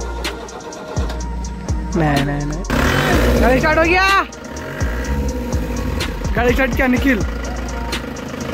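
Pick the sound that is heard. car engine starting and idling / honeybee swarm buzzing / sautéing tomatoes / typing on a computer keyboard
car engine starting and idling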